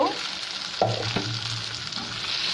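Boiled potatoes being stirred into deep-fried onions in a pan: a close, continuous sizzle with a couple of sharper scrapes and knocks of the spoon partway through, no voices.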